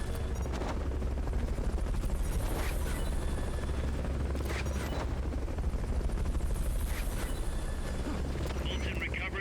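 A helicopter in Metal Gear Solid: Peace Walker thrums with a steady low rotor drone throughout, with sharp bursts and clatter breaking over it.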